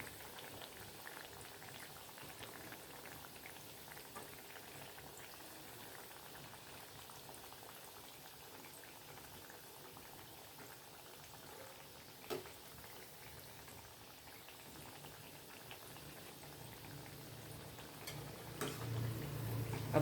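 Sweet corn cutlets made with rice flour and gram flour sizzle and bubble steadily in oil in a pan over a low flame, a soft continuous frying hiss with faint pops throughout.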